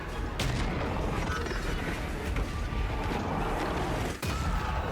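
Cannon fire in a Total War: Warhammer 2 battle, sharp booms and blasts over a dense rumbling din of battle noise.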